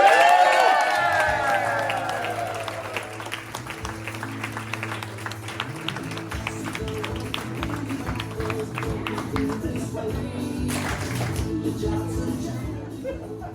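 An audience applauds and cheers the improv troupe the Agreeables at their debut show, a sustained crowd of clapping and cheers that tapers slowly, with rhythmic beats and music running underneath.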